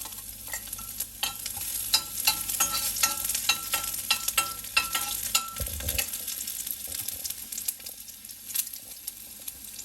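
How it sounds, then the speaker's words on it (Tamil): Garlic sautéing with mustard seeds in a pan for a pearl millet porridge, sizzling steadily over a low flame. Frequent stirring scrapes and a few seed pops come through close and clear, with no talk. "அதையும் இந்த டைமில் சேர்த்து வதக்கி விட்டுடலாம்"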